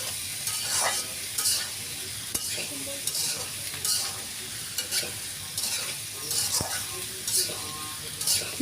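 Rice and lentils with vegetables and a little salt fry for khichuri, a continuous close sizzle with rhythmic spatula scrapes and stirring roughly every second, with faint speech in the background.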